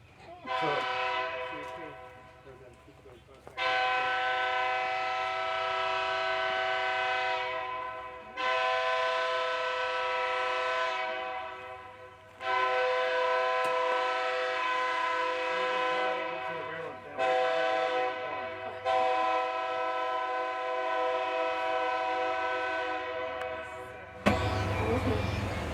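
A train passes near an outdoor siding-repair workshop, sounding long, loud horn blasts in several sustained stretches broken by short pauses, with a rumbling rail undertone throughout.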